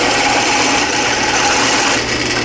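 A drill chases a hole through a pen blank clamped in a vise, a loud, steady whirring drone that holds through the whole stretch without pause.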